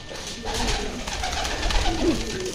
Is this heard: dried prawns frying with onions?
no